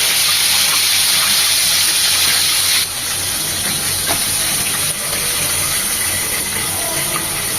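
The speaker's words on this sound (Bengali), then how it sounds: "এভাবে বাকি ড্রামস্টিকগুলোও ভেজে নেব" Chicken drumsticks deep frying in hot oil, giving a loud, continuous hissing sizzle that runs unbroken from start to finish and dips only slightly in level partway through; no voices.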